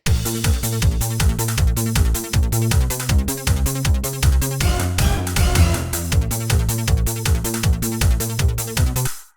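Stripped-down electronic track section recreating a song: a steady arpeggiated synth pattern over a driving, pulsing bassline, loud and continuous with a brief thinning midway, no voices.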